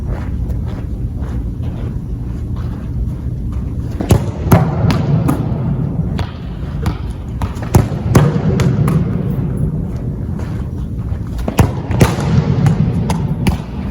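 Soccer balls struck in a simple line-up shooting drill, a series of sharp, irregularly spaced thuds over steady outdoor background and wind noise, without speech.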